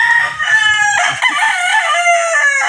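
A rooster crows loudly and close by in a long, wavering cock-a-doodle-doo that fills the whole moment, with no talking over it.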